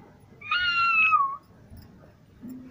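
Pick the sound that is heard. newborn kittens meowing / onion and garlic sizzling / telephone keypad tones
newborn kittens meowing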